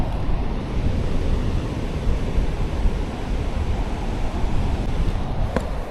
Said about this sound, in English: So I have reached at Sasne beach right now and you can see this beauty.